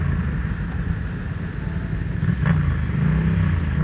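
A Yamaha XSR700 motorcycle engine idles with a low, rough rumble, then revs up briefly before settling back.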